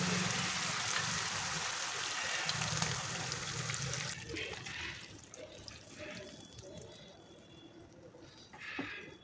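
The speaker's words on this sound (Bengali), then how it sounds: "এবার আমি সিদ্ধ হওয়ার জন্য পানি দেব।" Water splashes and gushes into a pot of browned mutton for a few seconds, then trickles and settles into softer bubbling and dripping sounds.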